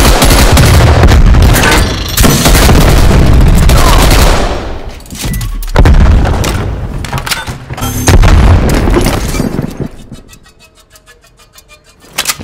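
A frag grenade blast in Call of Duty Cold War erupts within a loud, dense stretch of rapid gunfire and heavy booms, which fades to quieter game sounds near the end.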